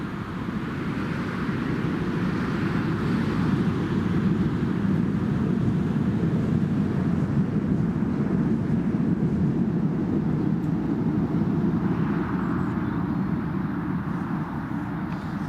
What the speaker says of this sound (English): the Emirates will be departing from runway 25 as well